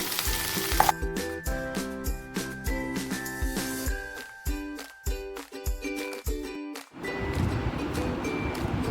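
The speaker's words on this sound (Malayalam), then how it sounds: "രണ്ട് സവാള അരിഞ്ഞത് വലുതായിട്ട് അരിഞ്ഞത് ഇട്ട് കൊടുക്കുന്നു" Two large, roughly sliced onions going into a hot pan on high flame for chilli chicken, with a steady loud sizzle and frying hiss, clinks of utensils and stirring, and the sizzle flaring up toward the end.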